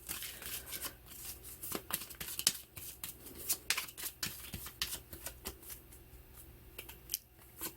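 Lenormand playing cards are handled and shuffled for a reading, giving a quiet, close series of crisp snaps, flicks and rustles in an irregular rhythm.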